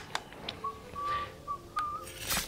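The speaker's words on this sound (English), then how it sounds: "I like the whistling voice." Whistling from a character in Gwent: The Witcher Card Game, a few short clear tones rising and gliding between brief clicks and game sound effects, moderately loud, with no talk over it.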